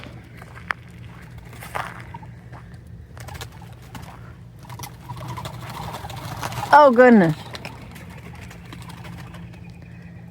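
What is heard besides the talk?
pigeons or doves cooing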